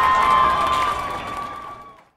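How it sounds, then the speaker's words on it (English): A crowd cheers and roars loudly at a Hot Wheels monster truck drag race on a 35 ft track, in one sustained burst that fades away after about two seconds. "The crowd is going absolutely wild."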